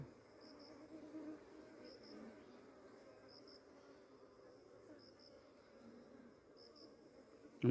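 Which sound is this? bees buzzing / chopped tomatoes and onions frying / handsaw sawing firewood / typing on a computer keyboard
bees buzzing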